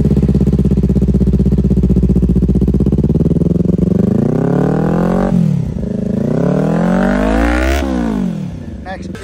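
A Kawasaki Ninja 400 with an aftermarket titanium full-system exhaust idles with a deep burble, then revs up twice in rising, snarling bursts before settling back.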